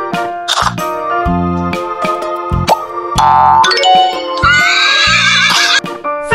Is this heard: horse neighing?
yes